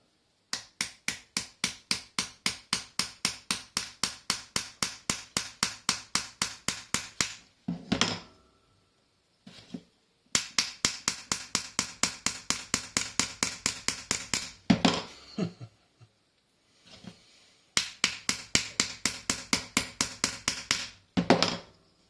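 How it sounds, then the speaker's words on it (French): Metal hammer tapping a ring into place during a seahorse carving or craft job, in quick steady runs of sharp close strikes separated by short pauses and a few handling clunks. "Et ensuite, je mets la bague. Avec le marteau."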